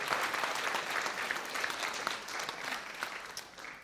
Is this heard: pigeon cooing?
no